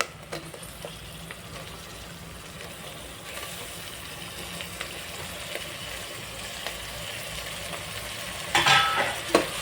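Curry leaves and tripe sizzle gently in a pressure cooker for curry, with a steady frying hiss and occasional stirring scrapes. A louder clatter comes near the end.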